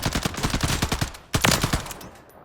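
Rapid bursts of light machine gun fire in a Call of Duty Warzone firing range, two loud sustained volleys of quick shots separated by a brief pause, with no talk.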